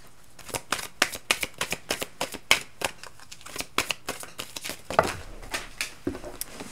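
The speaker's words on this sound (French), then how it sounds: "je ramasse les cartes qui sont tombées" Tarot cards are handled and gathered up by hand, giving a quick run of crisp papery flicks and slaps, close and fairly loud, with no voice over them.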